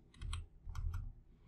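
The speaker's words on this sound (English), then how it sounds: "we will type laptop 1000" Quiet typing on a computer keyboard, with two short clusters of soft key clicks in a brief close-up burst.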